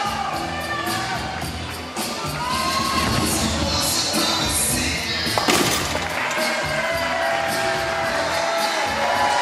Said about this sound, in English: The big crowd here at Bayside loving it